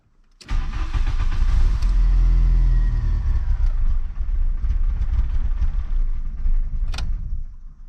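A Volkswagen Corrado 1.6 16v engine fitted with a 1.8t throttle body cranks after brake cleaner is sprayed in the intake, catching into a loud, rough, rumbling run that holds for several seconds, close up.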